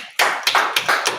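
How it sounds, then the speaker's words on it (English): A small group claps together in a class setting in Fayetteville, North Carolina: four sharp, evenly spaced claps close by, with no talking over them. "Let's clap it up."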